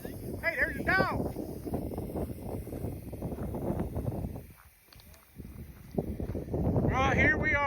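Gusty wind rumbles across the microphone, dipping briefly midway, with voices talking over it throughout.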